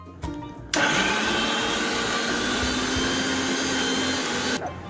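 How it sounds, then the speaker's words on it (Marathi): An electric mixer grinder blends soaked dal into batter for medu vada, starting abruptly with a loud, steady whirring motor roar that holds for about four seconds and then cuts off, close and alone. "तर आता आपण आपली ही डाळ आहे ती आता आपण मिक्सर मध्ये बारीक करून घेणार आहोत।"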